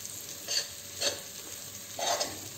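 Gram flour mangodi dumplings are stirred and roasted in a pan; three short, fairly faint scraping bursts rise over a quiet, low sizzle.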